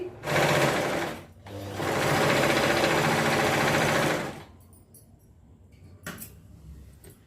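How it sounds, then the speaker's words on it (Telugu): Sewing machine stitching patiala salwar fabric, two close bursts of rapid whirring stitches separated by a brief pause, then quieter handling clicks and rustles after the motor stops. "ఇలాగ మనము పిస్తా ప్లేస్ కుట్టేసుకున్నామండి"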